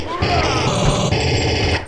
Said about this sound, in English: that's the sound of a gun if I've ever heard one.